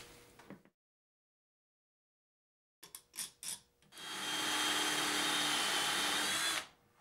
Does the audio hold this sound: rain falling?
no